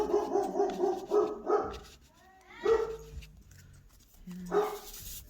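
Indoors, a house dog barks at a delivery to the home in rapid repeated bursts, then quieter pauses, and two more loud barks near the end.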